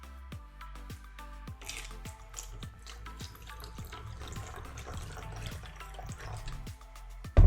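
Electrolyzed reduced water poured over a green tea bag, giving a continuous trickling, splashing pour with rhythmic drips and gurgles, close and steady.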